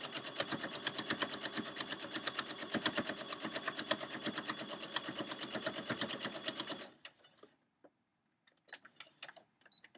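A sewing machine stitches a quilt-as-you-go eight-point star block in a steady rapid run for about seven seconds, then stops, leaving a few faint clicks and handling sounds.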